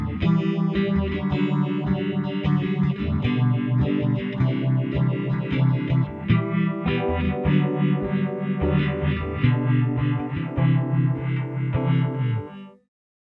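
A guitar runs through an Empress Effects phaser pedal in its 3-pole setting, giving a dense, loud, continuously sweeping swirl over sustained strummed chords that play without pause for about twelve seconds before cutting off.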